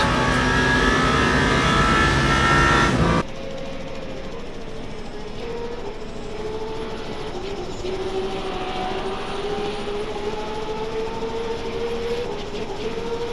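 A race car engine in Le Mans Ultimate, car number 36 running through the Porsche Curves toward the Mulsanne chicane, starts with a loud roaring burst, then settles into a steady drone whose pitch climbs gradually as it accelerates.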